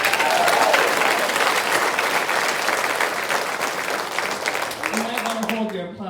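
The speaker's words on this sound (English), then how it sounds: "You might want to hold your applause because I got a list of them." Sustained audience applause at a high school graduation ceremony fills the room loudly and densely, then thins out, with a voice beginning to speak near the end.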